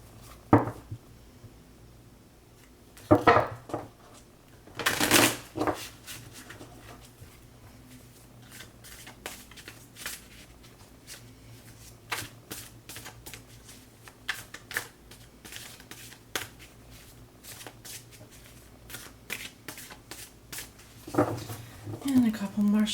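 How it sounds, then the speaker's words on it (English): Tarot cards being shuffled close by, with repeated soft riffling bursts and light patter spread across the stretch, some quiet background noise between them. "And a couple more shuffles,"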